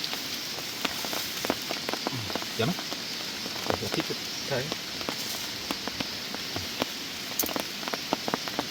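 Rain falls steadily in a mountain forest, a dense hiss with scattered patters and drips, and a voice speaks quietly beneath it.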